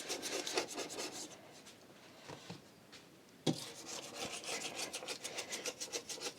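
A glass cooker hob being scrubbed clean by hand, with close, steady rasping rub strokes in a quick rhythm, a brief lull partway through, then brisk scrubbing again.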